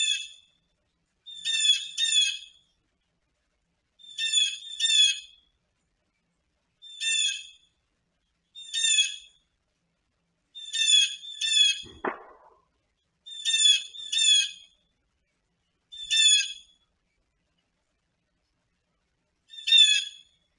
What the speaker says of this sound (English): Birds. There's 2 blue jays.